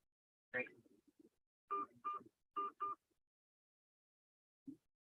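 Several short telephone keypad tones sound while voicemail is checked: one tone, a pair, then another close pair, each crisp and isolated against silence, with a faint low blip near the end.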